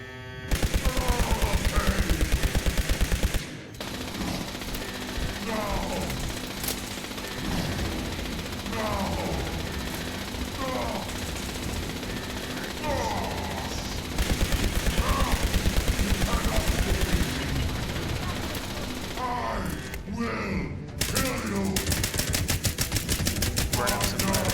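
Gunfire from weapons in the video game Fallout 76 plays as loud, dense bursts of rapid automatic shots across the whole clip, with brief pauses between volleys and game music and effects beneath.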